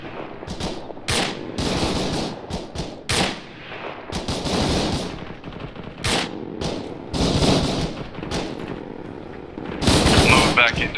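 Gunfire in ARMA 3 during a military operation, with loud rapid bursts of automatic fire and single shots coming in irregular clusters, some close and sharp, mixed with radio chatter between players.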